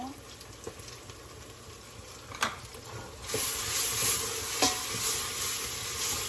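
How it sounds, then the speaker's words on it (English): Minced ginger and garlic sauté in a pan of goat and turnip curry, a soft sizzle that swells into a louder, brighter hiss partway through, with a few sharp clinks of a stirring spoon nearby. "It's time to add minced ginger and garlic and saute a bit more."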